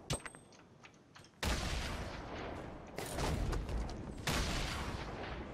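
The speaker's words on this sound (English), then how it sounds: "grenade launching me" Grenade launcher explosions go off in a Fortnite 50 v 50 match, several loud booming blasts arriving in quick succession, each followed by a sustained noisy roar, with no talk over them.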